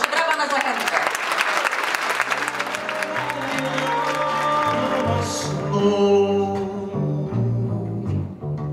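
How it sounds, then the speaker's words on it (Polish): Audience applause at the end of a performance at a Polish radio concert, loud clapping and some cheering that fades as piano and singing begin, with a voice heard over it. "Proszę, brawa na zakończenie."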